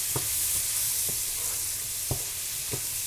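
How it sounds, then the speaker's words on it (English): Flour stirred into a sizzling corn chowder base with andouille in a pan, a steady frying hiss with a few soft scrapes of the spoon at intervals. "So now I'm going to add some flour"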